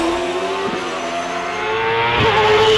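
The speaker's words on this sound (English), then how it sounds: "Puts it into gear by the sounds of it, the revs start to rise" A race car engine at the Prescott hillclimb revs up and accelerates from the start, the pitch climbing steadily with a brief gear change, loud and close.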